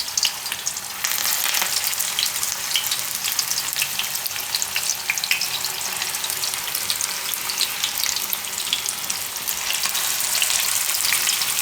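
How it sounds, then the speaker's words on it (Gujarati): Oats and spinach tikki sizzling in hot oil, a steady loud bright frying hiss with crackling pops throughout, no voices. "તો એમાં આપણે આ ટીકી એક એક કરીને મૂકશું આ રીતે. તો આવું તેલ ગરમ જોઈએ આપણે."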